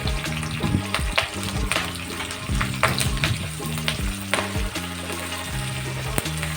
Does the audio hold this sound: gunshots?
no